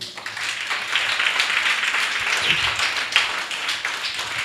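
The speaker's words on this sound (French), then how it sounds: "Alors, ça s'applaudit s'il vous plaît." An audience at a ceremony marking International Teachers' Day applauds steadily, a dense, even wash of clapping that carries on alone for the whole stretch.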